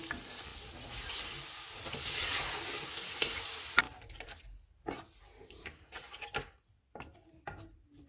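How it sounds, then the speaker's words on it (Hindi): Whisked yogurt being stirred into chicken white pulao in a hot pan, a dense sizzle for the first few seconds that then quiets, followed by sparse knocks and scrapes of mixing. "इसमें फेंटा हुआ दही डालेंगे, इसको अच्छी तरह मिक्स करेंगे।"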